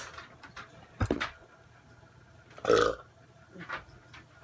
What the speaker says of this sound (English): Excuse me for the burp.